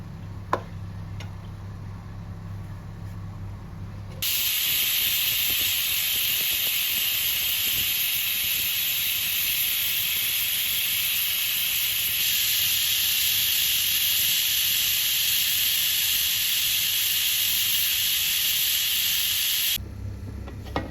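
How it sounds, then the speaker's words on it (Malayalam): A pot of boiling salted water for cooking cassava gives off a loud, steady hiss that starts abruptly, holds for about fifteen seconds, then cuts off. "വെള്ളം ഒന്ന് തിളച്ച് വരുന്നുണ്ട്."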